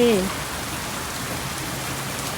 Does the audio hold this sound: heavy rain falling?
yes